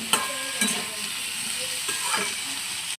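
Vegetables with turmeric, cumin and coriander powder being stirred in a pan, a steady sizzle broken by a few scraping stirs, close and alone.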